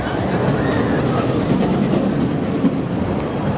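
Steady loud rumble and roar of a full roller coaster train running along its track on Fire & Ice at Six Flags Over Texas, with faint clicking and rattling throughout.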